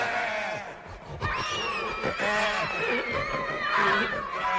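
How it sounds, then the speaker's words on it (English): A creepy cuckoo clock in a spooky house lets out a strained, squealing wail like a dying pig, rising and warbling in bursts over a few seconds. "I don't know why a cuckoo clock with a bird that comes out of it is making a noise like a dying"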